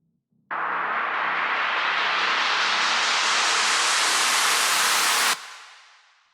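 A synthesized white noise burst from a synth's noise oscillator switches on abruptly and holds steady while an auto filter sweep gradually opens its top end, brightening the hiss before it cuts off sharply and trails away in a short fade.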